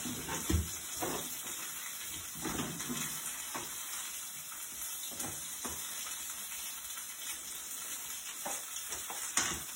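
Fish for tacos sizzles steadily in a frying pan, a close, continuous hiss broken by occasional sharper pops and crackles, with no voices.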